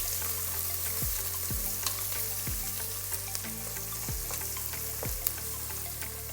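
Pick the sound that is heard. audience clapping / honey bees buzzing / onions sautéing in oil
onions sautéing in oil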